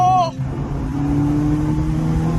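A rear-engined MG F sports car pulls hard while held in second gear, its engine note rising and droning loudly close by, preceded by a brief burst of voice at the start.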